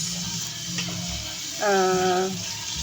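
Papaya fries frying in a pan give a steady crackling sizzle, with a brief tonal clatter partway through as the pan is handled.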